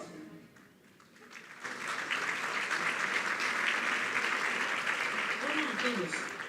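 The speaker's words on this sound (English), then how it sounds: "let's give a big round of applause to Clara, the new sustainability ambassador." Audience applause swells from a quiet start into steady, sustained clapping from a crowd, with a voice faintly heard under it.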